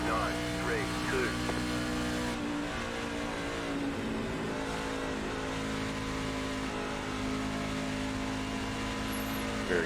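Truck Series race car engine at Auto Club Speedway in iRacing, a steady droning roar with shifting pitch and an unsteady throttle, loud and continuous throughout, with a brief dip partway.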